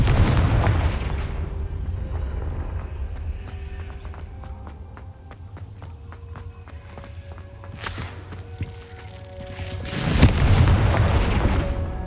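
Explosions from the Confringo fire spell in the Hogwarts Legacy video game boom at the start and again near the end, with scattered footsteps and softer effects in between.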